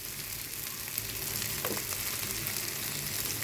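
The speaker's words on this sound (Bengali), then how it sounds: "চালটাকে ভেজে নেব" Raw rice fries in a pan with salt, a faint, even hiss of frying with one brief scrape of stirring in the middle.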